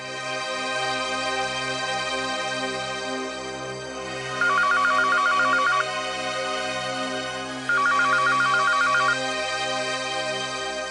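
A telephone rings unanswered indoors during a TV drama scene, with two bursts of an electronic ringtone over a sustained musical underscore.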